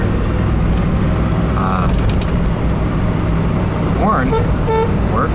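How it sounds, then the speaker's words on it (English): A 1980 Jeep Grand Wagoneer SJ 4x4 with a 360 V8 gives a few short horn blasts over the steady hum of its running engine and nearby traffic. "Horn works."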